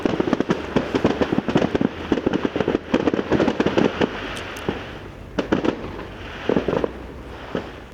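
A fireworks display bursts in rapid volleys of sharp bangs and crackles, dense and loud at first, then thinning into scattered single pops and spaced explosions, with a low rumble lingering between blasts.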